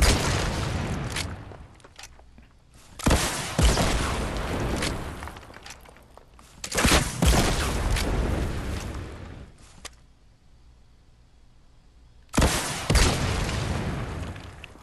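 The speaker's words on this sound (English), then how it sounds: "So let's hit it with all the rockets." Rockets fired at a target in Fortnite, four loud separate blasts, each a sharp boom trailing into a roaring rumble that fades over a couple of seconds, with quiet gaps between.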